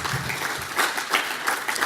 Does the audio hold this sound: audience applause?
yes